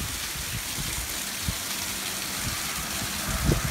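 Water flowing continually from an artesian well, a steady close gushing and splashing wash with a few louder splashes, no talking.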